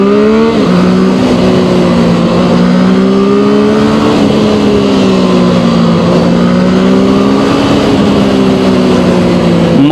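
A ZONTES 703RR motorcycle accelerates hard nearby, its engine note loud and steady, rising in pitch then dropping briefly at gear changes before climbing again, with no voices over it.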